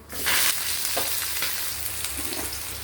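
Onions, mustard seeds, chana dal and coriander leaves sizzle and crackle in hot oil, with a few stirring scrapes of a spoon against the pan.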